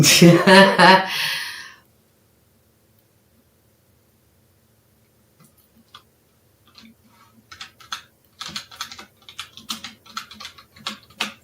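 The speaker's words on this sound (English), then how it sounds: "Typing stuff in." Fingers type on a computer keyboard, with quiet, irregular keystrokes that start after a short spoken phrase and a pause, then come in denser, clicking bursts near the microphone.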